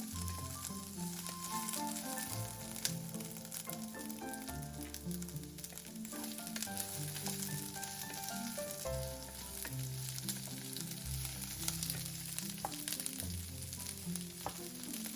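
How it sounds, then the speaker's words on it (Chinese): Onions stir-fry in a little hot oil in a wok, giving a continuous sizzle with occasional scraping stirs, heard alone with no voices and with music in the background. "锅热放少许油，先把洋葱炒香"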